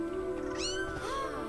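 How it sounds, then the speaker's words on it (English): A cat meows in an indie game trailer: a couple of clear, rising and falling meows close up over a soft musical bed. "There's a cat."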